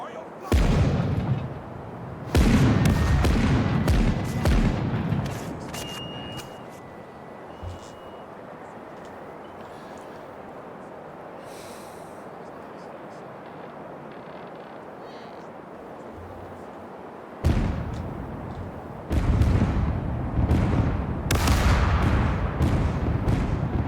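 Ship cannon broadside firing in the video game Caribbean Legend, with loud bursts of booming shots clustered at the start and again near the end and a steady rumbling ambience between, under occasional voices.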